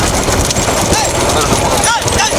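Bullocks pulling carts in a practice bullock cart race at Udaikulam drum the ground in hoof beats beneath loud, excited shouting from nearby onlookers.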